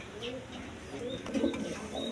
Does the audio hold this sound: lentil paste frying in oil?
no